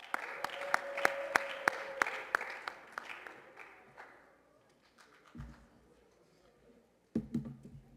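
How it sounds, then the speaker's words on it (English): College assembly audience applauds Devin and the student government members: a few loud, distinct claps ring out among scattered clapping, which thins and fades into quiet room noise before low thuds and rustling. "Give a big, warm round of applause to Devin and the student government people."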